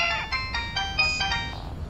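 A phone ringtone plays alone in a quiet room, a bright repeating electronic melody of short pulsing notes that rises and then fades after about two seconds.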